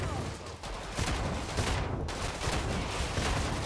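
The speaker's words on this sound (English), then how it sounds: "there's a flesh pounder. So we're gonna throw some grenades at it." Grenade blasts and gunfire thrown at a Fleshpound in Killing Floor 2, a dense continuous barrage of loud explosions and shots filling the whole stretch without pause.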